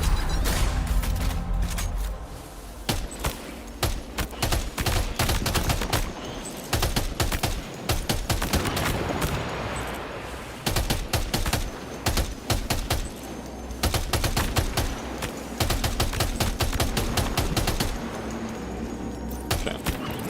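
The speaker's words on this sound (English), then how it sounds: "Just grab a machine gun." Machine gun fire in the video game Death Stranding 2 rattles in long, loud bursts, dense rapid shots broken by brief pauses, with mechanical clicks between volleys.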